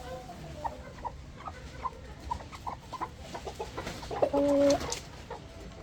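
Chickens cluck in short, scattered calls over a steady farmyard background, with one louder sustained squawk near the end.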